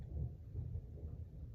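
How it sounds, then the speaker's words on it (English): Low, steady rumble of thunder rolling on through the whole short stretch, moderately loud and dominated by deep bass energy, with faint rain hiss above it and no voices. "The thunder."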